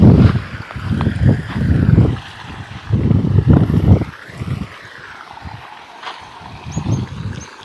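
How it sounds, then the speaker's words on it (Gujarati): Water flowing loudly outdoors near farm huts, a rough low rushing wash that swells and fades in uneven bursts, mixed with wind buffeting the microphone. "તો પાણીનો અવાજ તમે સાંભળતા છો"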